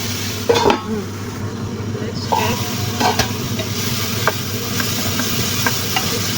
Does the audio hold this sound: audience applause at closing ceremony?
no